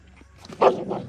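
Hungry puppies being fed in a yard give a short, close yelp or bark that rises out of a quiet background and then fades into lower whimpering.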